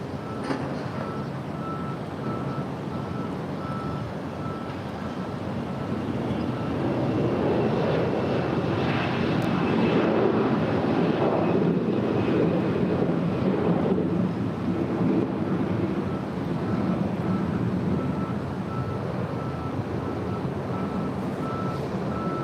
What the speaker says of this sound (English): That is Delta Airlines Flight 324 heading to JFK in a 757-200.